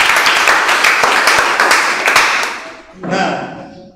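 A classroom audience claps hands together for about two and a half seconds, a dense patter of many palms that fades out before a teacher's voice comes in.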